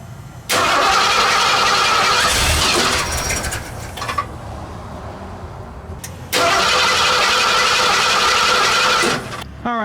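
A junkyard Bullnose Ford engine fitted with an Edelbrock AVS2 four-barrel carburetor cranks and catches twice, each time roaring into a loud, rough idle before cutting off, close up.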